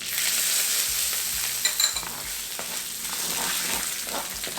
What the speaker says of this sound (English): We'll cook these up until the curry leaves get crisp